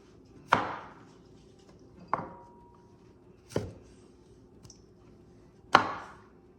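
Four sharp knife chops on a cutting board, spaced irregularly with brief pauses between, as salmon-dish ingredients are cut into small pieces in a home kitchen; close and crisp with no talk.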